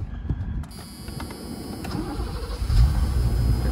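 A 1985 BMW M635 E24 shark nose, low-mileage Euro-spec coupe, starts up: a brief crank catches quickly and settles into a steady, fairly loud engine idle close by, with no talking.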